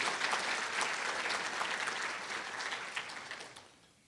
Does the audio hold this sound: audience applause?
yes